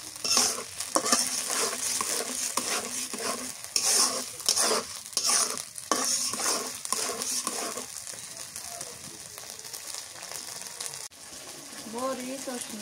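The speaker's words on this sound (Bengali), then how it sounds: "ডালে এইভাবে কষার লাগে, কষালে ফেরা মজা লাগে।" Dal cooks in a pan with steady sizzling while a spoon stirs and scrapes the bottom in a rhythmic pattern, close and moderately loud, with light clinks.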